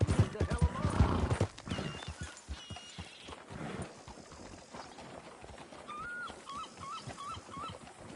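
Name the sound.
horse in a video game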